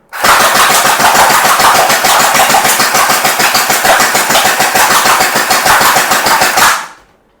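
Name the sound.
SCAR-L electric gel blaster firing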